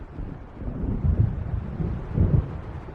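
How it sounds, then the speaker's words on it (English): A storm approaches over open water in the Alan Wake video game: steady gusting wind roars, with low thunder rumbles swelling twice at moderate distance. "It seems there's a storm coming."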